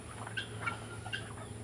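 A turkey gobbles a few times, short warbling bursts separated by brief pauses, set against steady farmyard background noise.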